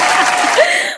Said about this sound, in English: applause in the background.